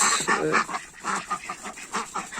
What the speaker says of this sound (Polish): fakt jest taki, że to są bardzo głośne kaczki.